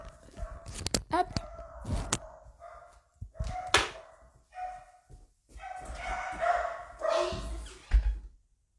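Several dogs bark in sharp, loud bursts at a home, with yips and brief pauses between outbursts, while a person talks over them.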